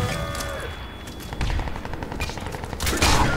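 Loud, rapid automatic gunfire from a Crysis 2 multiplayer match, with dense overlapping shots that build in intensity toward the end.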